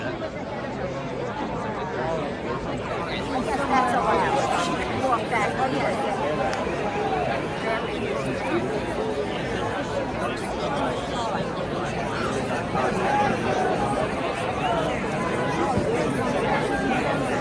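A large crowd at a political rally in Madison Square Garden, New York, fills a big indoor hall with continuous overlapping chatter and murmuring, a dense steady babble of many voices throughout.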